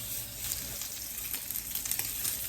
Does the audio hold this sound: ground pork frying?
yes